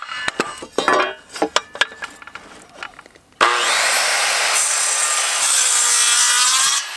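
Carbide-toothed power saw cutting wood on an old utility trailer: scattered knocks and clinks first, then a loud steady whining cut that runs on for several seconds with no voices.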